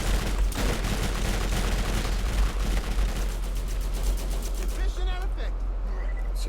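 Grenades blow up amid rapid gunfire in the video game Borderlands GOTY Enhanced, a dense, loud barrage of bursts and blasts that runs continuously without letup.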